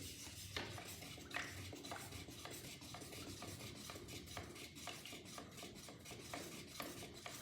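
Pearl pigment is stirred into a spray paint mix, giving continuous close scraping and clinking of a stirrer against the container, with a few sharper taps along the way and nobody talking.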